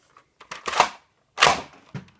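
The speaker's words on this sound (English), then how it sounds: "pull it back to fire the missile" A Nerf Thunderblast toy launcher is primed and fired, giving a few plastic clicks, then two sharp bursts of air pops close up and a final click, with no speech.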